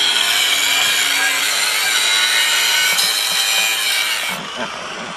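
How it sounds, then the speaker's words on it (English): A power tool cuts metal during a box van conversion, giving a loud, continuous, harsh grinding whine that holds steady for several seconds and then drops off near the end. "Cutting the metal for us."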